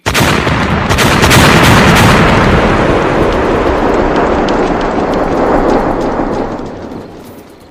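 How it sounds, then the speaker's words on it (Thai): A loud, sustained explosion booms and rumbles in a Thai war story, a broad roaring blast that holds for several seconds before slowly fading out, with crackling detail like distant gunfire layered through it. "ทันใดนั้นก็ต้องสะดุ้งสุดตัวเมื่อได้ยินเสียงระเบิดกึกก้อง"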